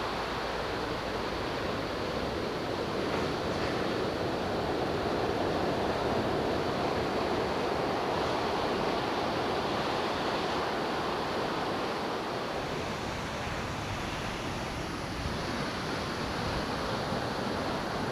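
Ocean surf rolls onto a rocky Florida beach in winter as a steady, broad wash of waves, continuous and moderately loud with slow swells, mixed with wind and no voices.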